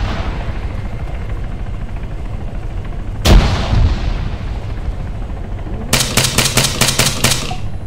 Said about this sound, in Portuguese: Joguei granada lá.